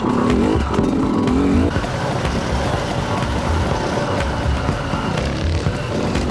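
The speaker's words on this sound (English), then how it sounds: "the 250 FREERIDE is halfway between a trials bike and an enduro bike in so many ways" KTM Freeride 250R enduro motorcycle engine running close by, a continuous buzzing drone with a brief rising rev at the start, then steady throughout.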